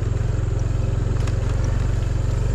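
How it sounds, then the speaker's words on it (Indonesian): Motorcycle engines idling and puttering nearby in a quiet riverside Dayak village, a steady rhythmic low chug with no talking. "Ini banyak motor di sini?"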